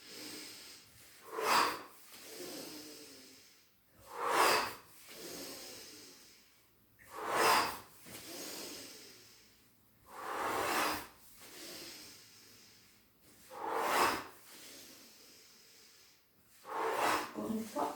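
Slow, deliberate exhalations through the mouth during a yoga breathing exercise, six breathy whooshes spaced a few seconds apart, close and soft, with quiet pauses between them.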